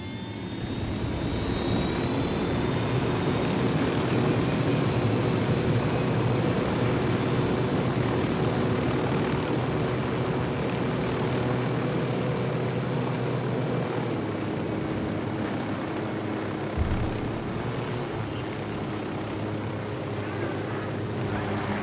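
A drone flies overhead in the video game Ghost Recon Wildlands, its engine a steady, loud droning hum with a faint high whine that holds for over twenty seconds, with a brief thump near the end.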